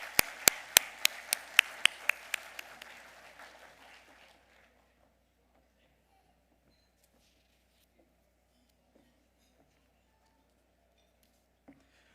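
Applause for the lamp lighting at a vegetarian banquet: a short burst of sharp, evenly spaced claps that thins out within about four seconds, leaving near silence with a few faint knocks.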